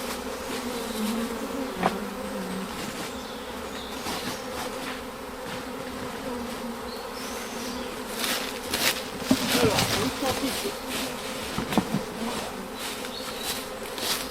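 Honeybees buzz steadily around opened hive frames during an American foulbrood inspection, a dense continuous hum close by, with a few louder swells and no talk.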